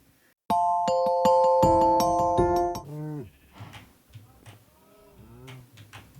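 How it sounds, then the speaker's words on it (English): Sheep in the video game Minecraft Bedrock Edition give several short, wavering bleats after a run of bright chiming tones, the calls coming one after another at close range, each distinct and alone. "So we need to lure 2 sheep. Please go in here, sheep."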